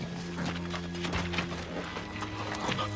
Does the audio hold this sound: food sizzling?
no